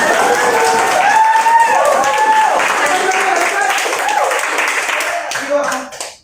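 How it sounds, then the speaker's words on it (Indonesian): A class applauds a student after her presentation, a few seconds of mixed clapping under overlapping voices that tapers off at the end. "Tepuk tangan untuk Nurul"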